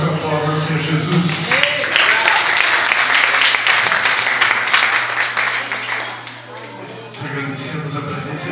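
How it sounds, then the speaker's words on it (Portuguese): A church congregation applauds in a sustained wash of clapping, loud and close, with a low musical drone underneath that fades near the end. "dê uma oração aplauso ao Senhor Jesus"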